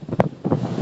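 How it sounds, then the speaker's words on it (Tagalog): Strong wind at sea from a small fishing boat off Linapacan, Palawan, buffeting the microphone in a short rough gust with low rumble and a brief burst of noise. "may malakas yung hangin"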